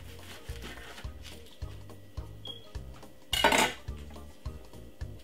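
Fork and knife scrape and tap on a plate while fried Christmas beef is cut, giving a steady series of light clinks close by with a brief louder scrape midway.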